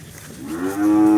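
A Jersey dairy cow lets out a single loud, rising moo that swells and holds steady, close by and clear, with no talk over it.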